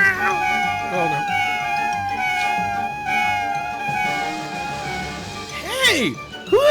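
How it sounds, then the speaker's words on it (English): Many cats meow over and over in a busy overlapping chorus, some calls rising and falling in long sweeping wails, with a faint jingle and a steady low hum underneath. "who let all these cats in here?"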